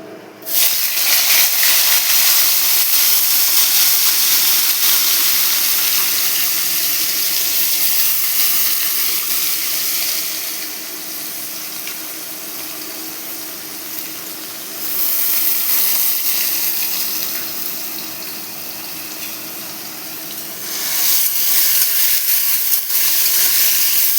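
Chopped banana flower fries in hot oil tempered with five whole spices, a loud, steady sizzling hiss close up that swells and eases in waves throughout.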